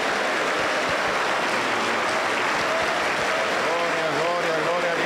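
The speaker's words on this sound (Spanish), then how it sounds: "La iglesia le recibe con fuerte aplauso para Jesús." A Pentecostal church congregation in Junín, Peru gives loud, sustained applause to welcome a pastor, a thick, continuous roar of clapping with singing or voices rising faintly beneath it.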